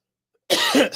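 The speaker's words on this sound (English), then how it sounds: "I'm sitting here coughing" A single harsh cough bursts out after a moment of silence, close and loud, with a rough throaty rasp.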